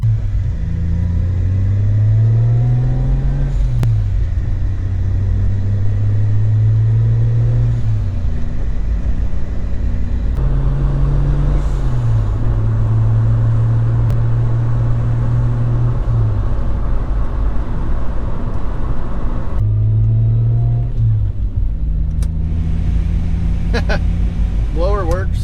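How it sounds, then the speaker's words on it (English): A Toyota MK3 Supra with the 7M engine drives along, its exhaust rising and dropping through repeated accelerations and gear changes over a constant road rumble, heard from inside the car. "Gonna go on a quick cruise real quick with the Supra."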